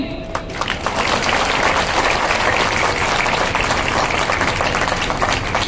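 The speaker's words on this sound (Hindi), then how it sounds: "तालियां कम बजी" Applause from a crowd at a public statue unveiling ceremony for Shrimant Madhavrao Scindia at Morar district hospital, Gwalior, a dense steady patter of many hands held at an even loudness for several seconds.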